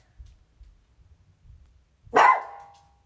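A single sharp dog bark bursts out near the end after quiet low rumbling, close and fairly loud, with no talking.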